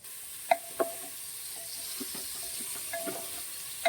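Khichdi with whole tomatoes being stirred in a pot: a few sharp spoon scrapes and knocks against the metal stand out over a steady low sizzle of frying, with no talking.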